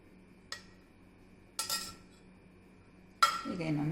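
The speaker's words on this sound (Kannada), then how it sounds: "ಈಗ ಇನ್ನೊಮ್ಮೆ ಕಲಿಸ್ಕೊಳ್ತೇನೆ" A spoon mixes potato masala with chopped onion and coriander leaves in a bowl for dahi puri, giving three separate metallic clinks and scrapes against the vessel in a quiet room.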